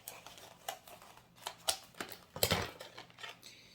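Scissors snipping into plastic packaging for cheap make-up eyeliners, a series of sharp irregular clicks and crisp cuts, close and fairly quiet with gaps between strokes.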